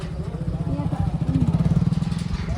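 A motorcycle engine putters close by on a bridge, its throb growing stronger and more rhythmic, with a voice briefly heard over it.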